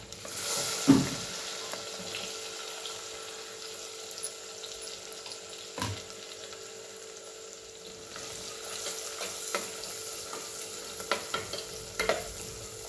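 Onion and cumin sizzle steadily in a pan, a continuous close frying hiss broken by a few scraping stirs and clinks of a utensil, with no talking.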